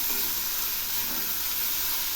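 Kharkol leaves frying in plenty of oil, giving a steady, dense sizzle and crackle that holds close and even throughout, with no pauses.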